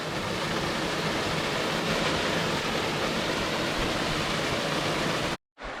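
Steady, loud rush of a small waterfall spilling into a pool on a hill burn near Alwinton in the Northumberland hills. The noise runs unbroken and close, then cuts off abruptly near the end.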